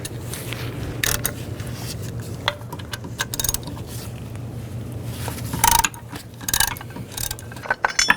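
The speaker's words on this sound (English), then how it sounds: "Use an 18mm socket. Loosen up these bolts." A ratchet with an 18mm socket loosens the bracket bolts on a 2010-16 Buick LaCrosse during a water pump replacement, giving quiet repeated clicking bursts with metallic clinks over a low background hum.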